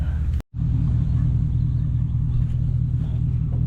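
A GMC Denali truck engine rumbles steadily and close while the vehicle is turned around, a low continuous drone after a brief cutout near the start.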